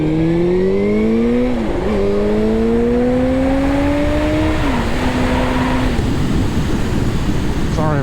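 A Suzuki GSX-R1000 K2 sport motorcycle accelerates hard on an open road, its engine note climbing steadily and dipping briefly at each of two upshifts, loud and close under constant wind rush, with no talking.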